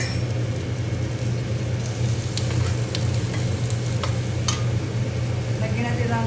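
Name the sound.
fresh shiitake mushrooms frying in sesame oil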